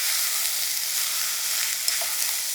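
Cranberries added to onions frying in oil in a pan give a steady, close, bright sizzle, with faint stirring and no voices.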